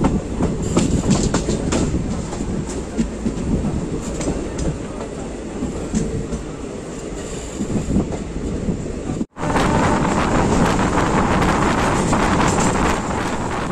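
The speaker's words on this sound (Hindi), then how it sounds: "फिलहाल हम लोग की जो ट्रेन है वो मेन लाइन पर कनेक्ट हो गई।" A passenger train on the Varanasi to Mau main line runs steadily with continuous rumbling and clickety-clack from the carriage, heavy wind buffeting the microphone, briefly cutting out before resuming just as loud.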